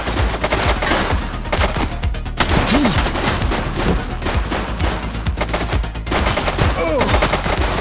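Gunfire during a shootout in the video game The Precinct, loud and continuous with dense overlapping shots and bursts. A few brief voice fragments sit under the shooting.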